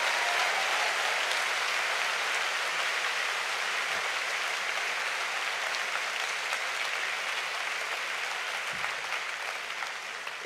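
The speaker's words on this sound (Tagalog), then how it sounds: "Come on, let's clap our hands to the Lord." A congregation claps hands together during a worship service, a dense and sustained burst of applause-like clapping heard close and loud throughout.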